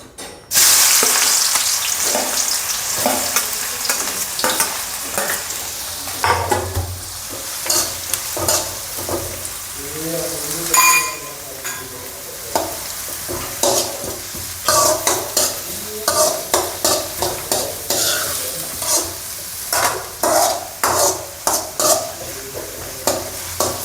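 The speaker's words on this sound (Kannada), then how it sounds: "ಸ್ವಲ್ಪ ಎಣ್ಣೆ ತೊಗೊಂಡು ಇಲ್ಲಿಗೆ ಆನಿಯನ್ ಹಾಕೋಬೇಕು" Onions fry in oil in a pan for ragi manchurian, a continuous close sizzle cut by frequent scraping and clinking stirs, the strokes growing quicker and more rhythmic toward the end.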